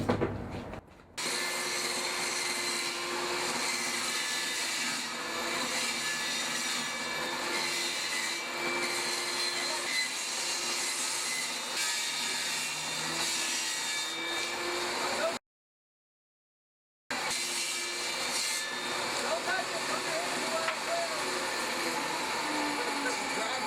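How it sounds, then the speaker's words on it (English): A power drill whirs steadily into wood, drilling the center hole for a vertical axis wind turbine, a constant high grinding drone that cuts out briefly near the end before resuming. "that's where you're going to drill your center hole"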